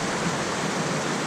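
A steady, dense rush of falling water from a small waterfall in Krkonose National Park, Czech Republic, a continuous broadband roar heard close by with no voices over it.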